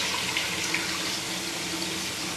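Water runs steadily from a tap into a pot of chicken stew (csirke pörkölt), a continuous close splashing rush.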